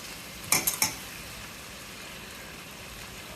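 Three quick metallic clinks of a utensil against a pan as cleaned pond fish go into cooked tomatoes for a tamarind fish curry, followed by a faint, steady background hiss.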